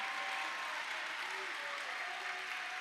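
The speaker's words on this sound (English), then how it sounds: "Y'all give them a round of applause." An athletics awards ceremony crowd claps for honored student athletes, a continuous even wash of applause heard somewhat distantly, with a faint tone drifting underneath.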